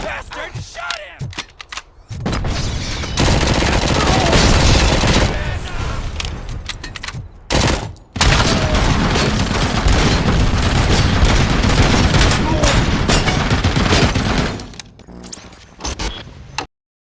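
Gunfire in the video game Robocop: Rogue City, with dense, loud sustained shooting and mechanical clatter that fills most of the clip, broken by brief drops and a quieter start and end.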